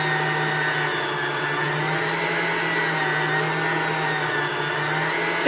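A blender whirs steadily at low speed, a continuous even motor drone with a low hum underneath, close and unbroken.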